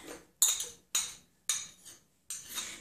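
Chopped onion going into a plastic onion-shaped keeper container, four sharp clattering bursts of pieces dropping and the lid or container knocking, close and fairly quiet with no voices.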